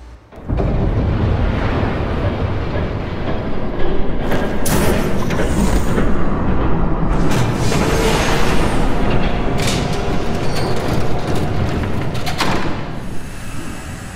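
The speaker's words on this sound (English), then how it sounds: "There's a train coming. Take cover." A train rushes past in a Batman Telltale game scene, a loud, dense roar that fills the whole stretch with heavy rumbling, sharp clanks and bursts of metallic noise, steady and continuous with no talking.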